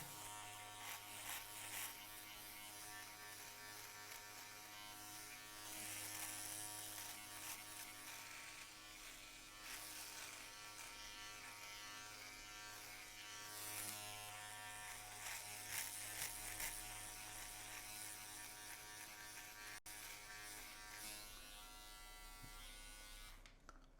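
A Philips electric shaver buzzes steadily and loudly throughout a close shave, with a continuous motor drone that shifts slightly in texture as it moves over the skin.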